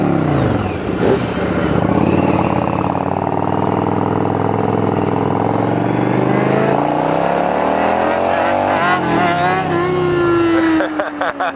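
A Yamaha V-Star motorcycle revs and pulls away with a loud, close engine roar that rises in pitch through the gears, then eases near the end.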